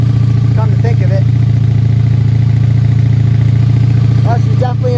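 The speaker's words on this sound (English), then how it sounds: "she's definitely an old carbureted smelly bike" A 1984 Honda V65 Sabre VF1100S, an old carbureted motorcycle, idles loudly and steadily up close on a cold start with a rough, even rumble, while someone talks over it.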